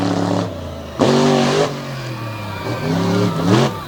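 A monster truck's 557 cubic inch engine revs loudly at a nighttime event in Bangor, Maine, with deep throbbing bursts that surge and fall back several times, close and dominant.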